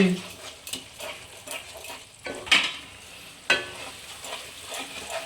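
Two cracked eggs going into fried masala in a pan for egg tadka, with soft sizzling and stirring, a few sharp clinks of a utensil against the pan at intervals, fairly quiet and close.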